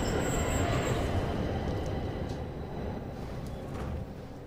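A subway train in The Darkness video game rumbles past loudly and close, with a dense roar of wheels on rails that slowly eases off over a few seconds, and no voices.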